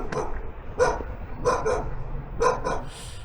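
A village dog guarding its territory barks in several sharp, close bursts, spaced irregularly with short yips, over quiet outdoor background.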